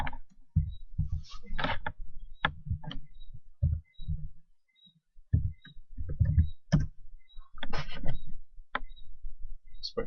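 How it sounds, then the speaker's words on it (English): Computer keyboard typing in a web search box, a few clusters of close, dry clicks with short pauses in between. "Let me type in Chalman here."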